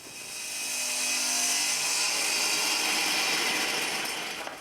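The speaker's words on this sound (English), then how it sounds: "So I've set the saw to 6 inches. I'll push this piece of ply through" A table saw set to 6 inches rips through a piece of plywood, a loud high whine that rises in as the blade bites, holds steady through the cut, then tapers off.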